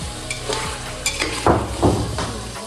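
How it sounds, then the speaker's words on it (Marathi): Chicken sautés in a pan with onions, ginger-garlic paste, green chillies and whole spices, crackling and sizzling while a spoon scrapes and stirs in several distinct strokes, close and alone. "चिकन पण आपण मस्त कांद्यामध्ये परतून घ्यायचं"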